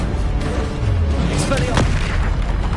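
Confringo blasting spells bursting during Hogwarts Legacy combat: a few heavy booms and sharp cracks over a constant, loud battle din, with a speaking voice mixed in.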